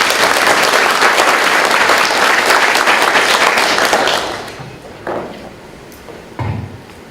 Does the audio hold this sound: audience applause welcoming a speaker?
yes